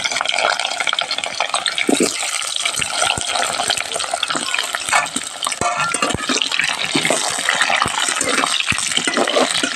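Potatoes for a country chicken curry frying in hot oil in a pan, a loud, dense, continuous sizzle and crackle with scattered pops and spatters throughout, close up.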